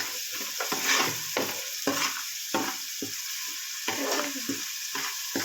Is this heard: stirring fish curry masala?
yes